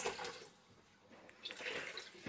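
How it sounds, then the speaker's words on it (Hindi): Water is poured into a pot of lamb and courgette curry, making a quiet splashing pour that runs in two soft surges, close and faint, with no talk over it. "पानी और डाल लेंगे"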